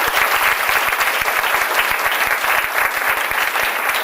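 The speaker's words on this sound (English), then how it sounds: "Please give them a round of applause." A large audience claps in a sustained round of applause at a business community event, dense and steady throughout, with no voices rising above it.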